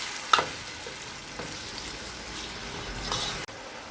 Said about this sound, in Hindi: अब इसके अंदर 1 कप दही डालेंगे। मिक्स कर लेंगे